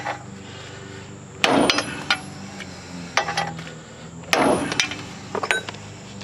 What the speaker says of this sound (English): Take my hammer and we'll just knock it out a couple times here, hit it, and you can see it's slowly going.